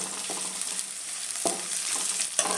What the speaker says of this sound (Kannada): ಈರುಳ್ಳಿ ಮತ್ತು ಕರಿಬೇವು ಕ್ಲೀನಾಗಿ ಕೈ ಹಾಕ್ಬೇಕಾಗುತ್ತೆ ಚೆನ್ನಾಗಿ ಕೆಂಪಾಗೋವರೆಗೂ